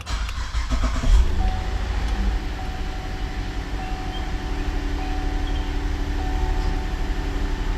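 A GM crossover's engine cranks briefly and catches, then settles into a steady low idle that continues to the end.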